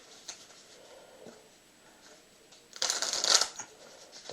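Bicycle mini playing cards with a smooth finish being shuffled, a short faint riffle burst up close after quiet handling.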